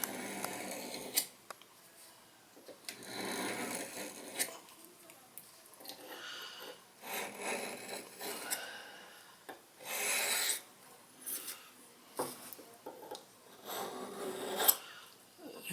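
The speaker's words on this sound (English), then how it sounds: "I'm going to take one of my crock sticks, one of these ceramic sticks, and I'm going to try to just renew the edge that's there" A Kershaw Scallion knife edge is honed on a ceramic crock stick in a series of soft, close rasping strokes with uneven rhythm, fairly quiet overall.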